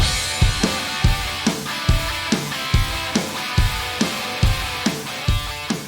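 Rock guitar part over big, heavily processed drums built with stock Ableton effects, in a classic rock vein; loud, steady beat with booming hits roughly twice a second under dense, bright guitar, no voices.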